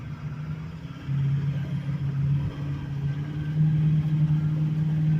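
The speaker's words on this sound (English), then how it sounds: "Giving a little bit more throttle." A 2010 Ford F-350 Crew Cab 4x4 with the 6.4 Powerstroke diesel pulls under added throttle, a steady low engine drone that swells and holds as the truck accelerates, heard from inside with no talk.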